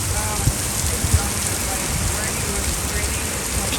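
Light rain falling on a windy day in the Loire region of France, a steady close patter of drops on surfaces with a couple of soft thumps.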